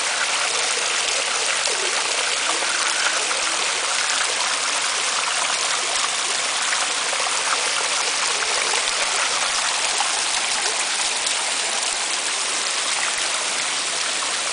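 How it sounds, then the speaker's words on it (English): A waterfall at Mango Land roars with a steady, dense rush of falling water, loud and unbroken throughout, with no voices over it. "So that's enough of the waterfall."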